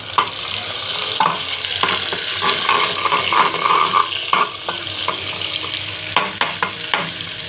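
Onion sautéing and being stirred in a pan for a quick provincial-style home dish, a steady close sizzle with repeated scraping strokes of the spatula and a few sharper clinks near the end.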